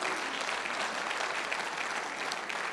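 A church congregation gives a strong round of applause to the Lord after a teaching on Revelation, a full, even clatter of many hands that holds steady throughout without any speech over it.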